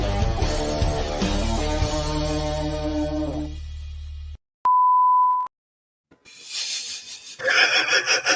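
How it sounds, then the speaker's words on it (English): A steady high-pitched electronic beep tone sounds alone for about a second in a gap of near silence, between stretches of loud music and sound effects. "there's too much high-pitched beeping"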